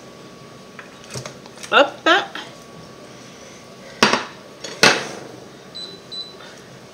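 Meat going into a cooking pot for a coconut curry chicken, a few clattering clanks and scrapes of utensils on the pot spaced apart, close and fairly loud, with a brief voice at one point.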